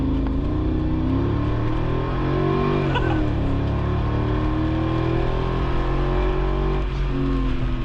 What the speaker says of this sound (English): listen to this engine. It is absolutely ridiculous with these side pipes.